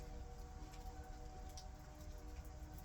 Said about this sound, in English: It's raining. I'm sitting on the front porch.